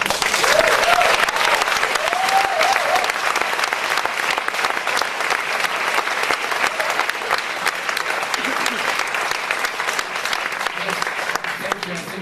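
Audience applause at a political gathering, sustained loud clapping from a large crowd that carries on evenly for the whole stretch with a few faint voices underneath.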